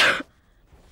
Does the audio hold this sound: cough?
yes